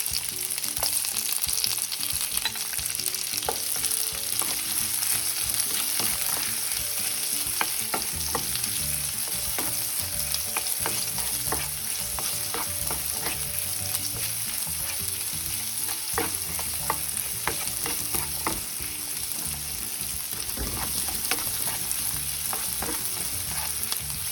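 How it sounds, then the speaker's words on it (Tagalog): Onion sizzling and frying in a hot pan for meatball soup with enoki mushroom, a steady hiss broken by frequent stirring scrapes and clicks throughout, with no voices. "Let's add our onion."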